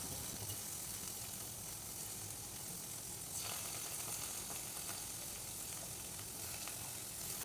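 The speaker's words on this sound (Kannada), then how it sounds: "ಇದಕ್ಕೀಗ ಒಂದೊಂದಾಗಿ ಈ ಪನ್ನೀರ್ನ ಪೀಸ್ನ ಇಡ್ತಾ ಇದ್ದೇನೆ. ಇದು ಸ್ವಲ್ಪ ಫ್ರೈ ಆದರೆ ಸಾಕು" Paneer pieces sizzle and fry steadily in a hot pan, a continuous close crackling hiss with a few brief louder spits, no voices present.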